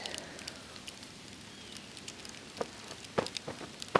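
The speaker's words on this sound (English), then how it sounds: "Got another sleet downpour here, and it's all sleet." Sleet mixed with some snow falls steadily during a winter storm, a soft continuous patter with scattered sharper ticks of ice pellets striking nearby surfaces, quiet overall.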